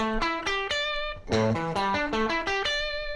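A distorted electric guitar plays a chord phrase in octaves, several sustained notes struck in sequence with a brief dip before the higher octave, loud and alone.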